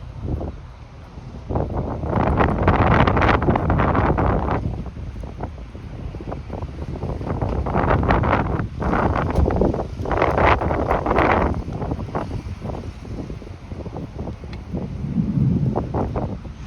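Strong gusting wind during a supercell storm chase in Pennsylvania and New York surges in repeated loud waves of roaring buffeting, easing briefly between bursts over a long stretch.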